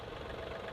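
A farm tractor's engine idles in neutral with its outriggers raised and loader lifted, giving a steady, continuous low rumble up close with no talk over it.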